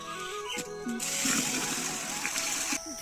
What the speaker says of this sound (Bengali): এই ধান একটা বড় পাত্রে আমি ভিজিয়ে রাখবো।